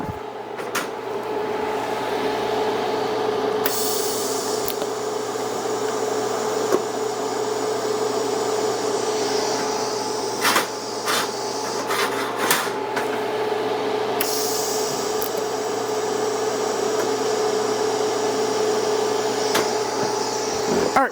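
TIG welding arc tacking a steel lap joint with 1/16 filler rod, a steady close hiss and hum running throughout, with bursts of brighter crackle and short clicks of the torch starting and stopping between tacks.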